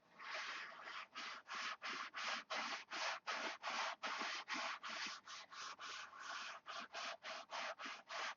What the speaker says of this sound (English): If you guys want me to do an hour of sanding with Spark every day, I can probably do that